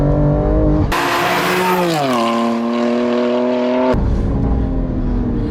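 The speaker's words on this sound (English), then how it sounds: "I'm gonna roll onto the throttle again." A car engine on a fast drive, with fresh R888R tyres on the rear, roars loudly. Its pitch dips briefly, then climbs steadily as the throttle is applied, staying close and dominant throughout.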